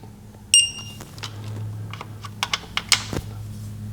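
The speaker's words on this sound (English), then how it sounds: "We need to tighten up these 4 bolts to 15 foot-pounds." A ratchet tightens the fuel injector rail bolts on a Chrysler 200 3.6L V6 to 15 foot-pounds. Its small metallic clicks and ticks come faint and scattered, with one sharper click near the end.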